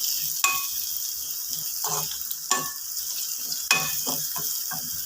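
Shallots turning golden in a pan for a tomato chutney give a loud, close, continuous sizzle, with the scrape of stirring breaking in several times.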